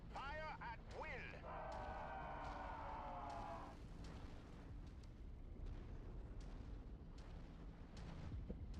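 Heavy weapons fire booms loudly through a BattleTech mech battle, a dense, continuous barrage of blasts and rumbling explosions, with a sustained whine of energy fire early on and voices talking over the din.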